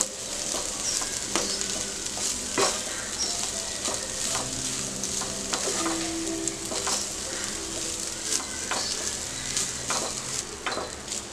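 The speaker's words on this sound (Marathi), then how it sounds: "मी बासमती राईस घेतला आहे, तुम्ही जो वापरता तो घालू शकता। परतून घेऊया चांगलं।" Basmati rice is stir-fried in a pan with oil, giving a steady sizzle broken by repeated scraping and stirring strokes at close range, with no voices.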